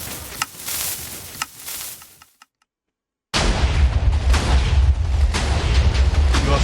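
Minecraft TNT cannon built with dispensers and an observer fires rapid bursts of game explosions, a dense rumbling barrage that cuts to silence for about a second, then resumes louder with continuous booming blasts.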